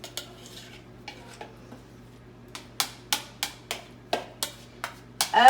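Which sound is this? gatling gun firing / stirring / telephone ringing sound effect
stirring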